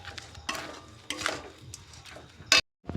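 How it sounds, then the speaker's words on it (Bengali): A spoon scrapes and stirs grated amla in a cooking pan, making a few close scraping strokes and clinks, ending with a sharp knock against the pan. "ভালো করে এবার নাড়াচাড়া করব।"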